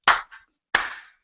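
Slow, deliberate hand claps nearby: a sharp smack with a faint echo-like follow-up, then a second firm clap after a pause, each ringing briefly in the room.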